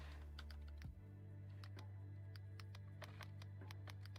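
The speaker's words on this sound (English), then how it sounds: "Sorry if you hear typing in the background." Quiet clicking keystrokes on a computer keyboard come in irregular bursts under a loud steady low hum from nearby equipment. Nobody speaks.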